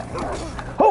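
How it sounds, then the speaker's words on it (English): A hostile dog in Demon's Souls, in the Smithing Grounds area, gives a short yipping bark that jumps louder at the end, heard over the game's low ambient backdrop. "Oh, I aggroed the dog."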